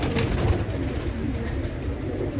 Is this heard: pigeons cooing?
yes